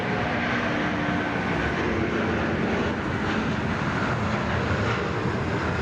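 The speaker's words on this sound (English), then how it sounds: "Nice long takeoff right there." A Jetstar airliner takes off at Sydney Airport, giving a steady, loud, continuous jet roar with a deep rumble that holds level for several seconds and has no talk over it.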